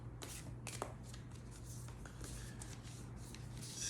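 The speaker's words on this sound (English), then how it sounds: "Shuffle them up." Oracle cards shuffled by hand, a quiet, continuous papery riffle and slide of stiff cards with soft taps, close and alone.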